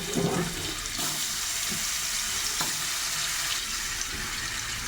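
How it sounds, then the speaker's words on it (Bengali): Steady hiss and crackle of potatoes frying in hot oil over a low gas flame, continuous and close, with a few soft clunks and scrapes in between. "আলুটা এখানে দিয়ে দিচ্ছি ভাজার জন্য"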